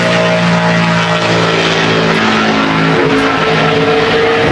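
A NASCAR Sprint Cup car on a qualifying lap at Homestead-Miami Speedway drones with a loud, steady engine howl, its tone shifting slightly as it runs down the front stretch.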